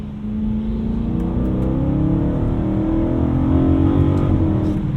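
A 2010 BMW E92 M3 accelerating on a wet, untreated winter road at 32 degrees, heard from inside the cabin: a loud, steady engine drone with rising pitch as revs climb, over continuous tyre and road noise, with no talking.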